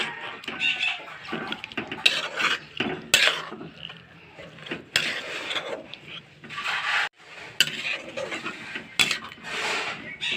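A spice paste for a country-chicken curry is stirred in a metal pot with a little water, making uneven bursts of scraping, rattling and clanking between short quiet gaps, close by and without talk.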